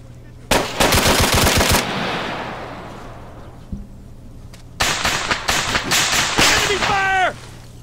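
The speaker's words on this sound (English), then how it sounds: "Enemy fire!" Arma 3 firefight in an urban coop battle: rapid automatic bursts crack out loud, a burst early, a lone shot mid-clip, then heavier sustained fire with a faint voice near the end.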